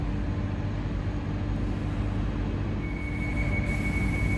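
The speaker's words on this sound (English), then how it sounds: "Northern Line train terminating at High Barnet" London Underground Northern Line train running toward High Barnet, a loud steady rumble of wheels and motors with a rising electrical whine near the end, continuous and close inside the carriage.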